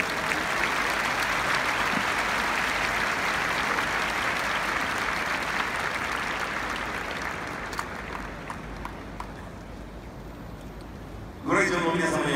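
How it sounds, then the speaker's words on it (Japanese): Tennis stadium crowd at a final gives long, broad applause to welcome a trumpeter, a steady roar of clapping that gradually thins out before a voice comes in near the end. "皆さんどうぞ大きな拍手でお迎えください"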